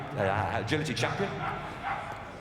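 Libby, an eight-year-old Patterdale Collie Cross agility champion at Crufts, gives a few close, sharp yips and bow-wow barks in quick bursts, with speech and arena noise running underneath.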